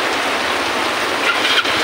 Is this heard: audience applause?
no